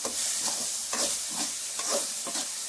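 Tomatoes sauté in a pan for a home-style fish curry with a continuous soft sizzle and rhythmic stirring scrapes, close and fairly quiet, with no talk.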